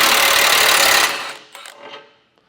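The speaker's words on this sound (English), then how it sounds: "So there's two 15mm bolts on the bottom. Get those both removed" Power tool, likely an impact wrench, running loud and continuous for about a second as two 15mm tow hook bolts come off the underside of a 2025 vehicle, then dying down to a few faint clatters.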